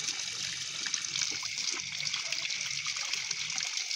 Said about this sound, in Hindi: टंगस्टन निकल जाने के बाद हमें इसमें पानी भरना है तो चलिए पानी भरते हैं